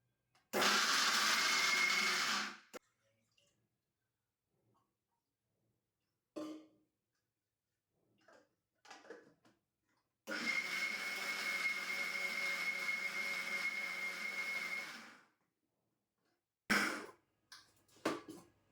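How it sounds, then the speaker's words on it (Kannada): A kitchen mixer grinder blending garlic paste runs in two loud, steady whirring bursts, the first about two seconds and the second about five, with quiet gaps, faint knocks and short sounds between them. "ಸೊ ಮಿಕ್ಸಿಗೆ ಹಾಕ್ಕೊಳ್ಳೋಣ."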